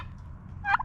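Chickens kept in a backyard aviary give a short burst of clucking calls near the end, over faint outdoor background.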